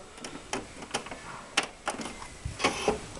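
A Canon MP250 inkjet printer powering up after being switched back on, giving a string of sharp mechanical clicks and ticks at an irregular pace, close and fairly quiet.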